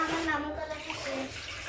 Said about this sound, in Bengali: রাতের ভাত রান্নার জন্য চাল ধুয়ে নিচ্ছি।